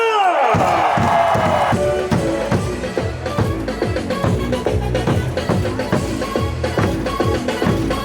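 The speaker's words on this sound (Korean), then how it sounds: "오늘의 승리를 위한 함성 5초간 발사!" Baseball stadium crowd at an LG Twins game roaring as music with a heavy, punchy beat plays over a loudspeaker, energetic and continuous.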